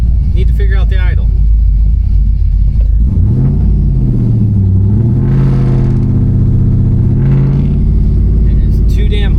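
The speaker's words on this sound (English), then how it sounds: "It'll idle sometimes, other times it doesn't like the idle." A swapped LS1 V8 in a 1992 Chevy C1500 pickup rumbles loud and close at idle, its pitch sagging and wavering unevenly as the rough idle hunts, with brief human voice over the engine.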